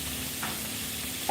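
Chicken frying in a pan gives a steady soft sizzle, with light scraping stirs and a brief clink near the end, and no one talking.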